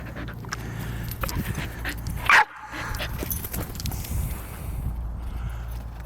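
A dog barks once sharply while playing outside in the cold, with panting, rustling and light jangling around it, fairly close and without voices.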